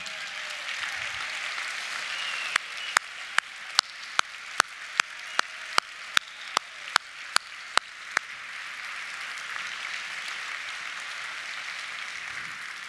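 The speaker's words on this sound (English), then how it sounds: "let's give you all a round of applause for your efforts from last year" A large convention crowd at the 2017 ASEA Convention applauds Delta class qualifiers. A steady wash of clapping runs throughout, with a rapid run of sharp, evenly spaced clicks in the middle.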